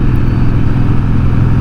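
An old Harley-Davidson Ironhead motorcycle being ridden, a loud, close, steady low engine rumble from start to finish with no voices.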